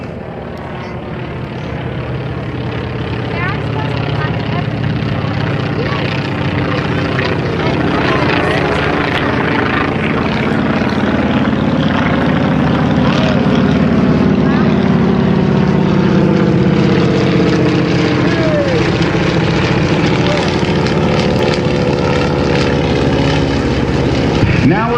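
A T-28 Trojan and SNJ Texan trainer plane fly past at a Blue Angels homecoming airshow, a loud droning propeller roar that swells and sweeps overhead with a shifting pitch, while an announcer talks over the engines.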